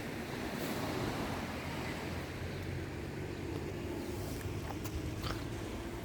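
Steady roar of ocean surf washing in at a bay on the French coast, broad and continuous, with wind buffeting the microphone throughout.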